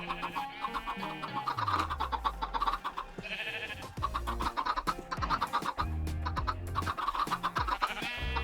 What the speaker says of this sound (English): Now I have an automatic chicken farm